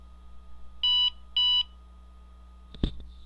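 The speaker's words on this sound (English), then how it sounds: "I get the double beep." An IBM PS/2 Model 30 with built-in MCGA video gives two short, clear electronic beeps in quick succession at power-on during its self-test. A single sharp click follows in a quiet room with a low hum.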